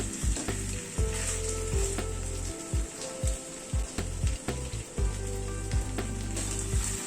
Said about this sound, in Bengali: পটলটা দিয়ে মশলার সাথে আবার একটুখানি মিনিট 2 মতো কষিয়ে নেব।